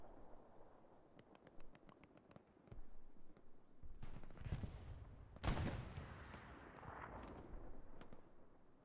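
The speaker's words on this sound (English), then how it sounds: "look at that artillery coming in right there" Artillery shells in the shooter Hell Let Loose land in quick distant thuds, then heavier booming impacts roll in closer, with one loud crashing blast in the middle of the barrage.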